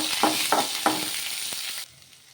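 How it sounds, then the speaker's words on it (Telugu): Green chilies and coconut pieces sauté in a pan for an idli chutney, three quick stirring bursts over a constant close sizzle that cuts off near the end. "వీటన్నింటి కూడా బాగా మగ్గించుకోవాలి కొద్దిసేపు"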